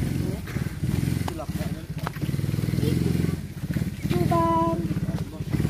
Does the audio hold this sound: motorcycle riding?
yes